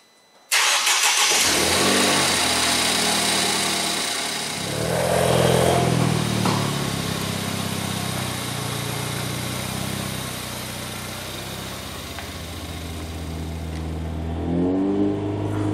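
A Ford Fiesta ST engine cranks and catches inside a garage, then settles into a loud, steady idle with a brief rev partway through, continuing close and alone until a final slight rise in revs.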